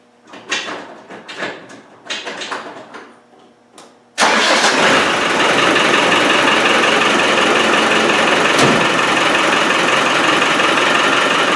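A few sputtering cranks and clicks come first, then a Malawi 110 engine with glow plugs catches in minus 22 degree cold and settles into a loud, steady idle.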